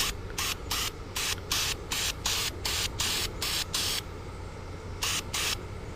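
Undercoating sprayed from a can into a cardboard box in short bursts, about a dozen crisp hissing blasts in a quick rhythm, then a pause and two final bursts, close and loud with no talking.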